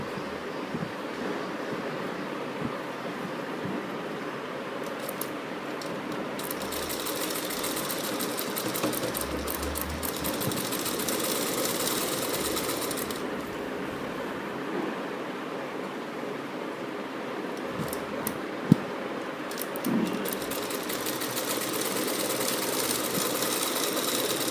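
Sewing machine stitching the side slit of a kameez: a steady, continuous motor whir running throughout, with brief pauses and changes in speed, close and alone with no talk.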